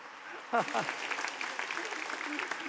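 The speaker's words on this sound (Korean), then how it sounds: "우리 박수로 한 번 더 격려하겠습니다." A church congregation applauds during a Sunday service, with a short burst of voice near the start before dense, steady clapping fills the rest of the moment at moderate volume.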